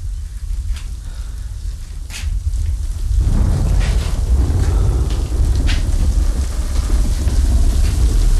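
Heavy rain pours down in a steady broadband hiss that swells noticeably louder after about three seconds and then holds, dense and continuous, with no voices.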